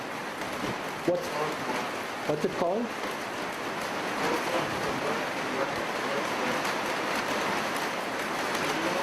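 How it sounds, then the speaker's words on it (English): Heavy rain pours down as a dense, steady hiss that fills the whole stretch, loud and continuous, with people talking briefly over it. "There's a lot of sound from the rain."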